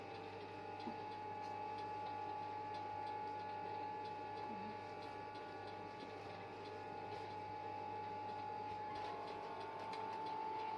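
A sewing machine, run with a foot pedal, stitches along the hem of a bedsheet in a steady, continuous mechanical whir with faint ticking underneath, unbroken for the whole stretch.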